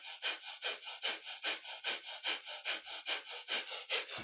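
Rapid, rhythmic yogic breath of fire, with about four sharp nasal exhalations per second that are close, even and continuous, with no talk.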